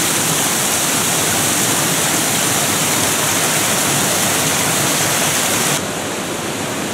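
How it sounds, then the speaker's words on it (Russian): A mountain waterfall in the Verkhoyansk Range roars as a loud, steady, dense rush of falling water, unbroken throughout and slightly softer in the final second, with no voices. "Впереди новый водопад."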